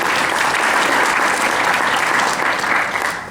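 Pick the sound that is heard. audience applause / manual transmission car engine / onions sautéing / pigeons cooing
audience applause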